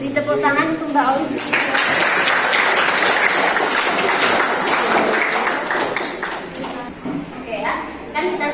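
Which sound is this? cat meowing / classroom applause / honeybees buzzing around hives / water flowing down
classroom applause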